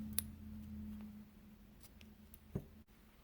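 Scissors snipping crochet yarn for an amigurumi project, a sharp close snip near the start and another later, faint and brief over a steady low hum.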